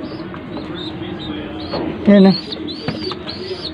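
Pigeons cooing inside a loft, a soft steady murmur of low coos with a louder burst midway and faint chirps, while someone talks over them.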